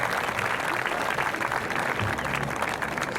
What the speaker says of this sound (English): Graduates, please give a round of applause to all these folks.